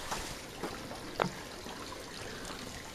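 Liquid pool chemical poured from a cup into swimming pool water near a return jet, giving a few faint, brief splashy trickles over steady background noise.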